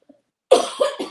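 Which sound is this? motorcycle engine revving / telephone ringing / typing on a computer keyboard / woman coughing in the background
woman coughing in the background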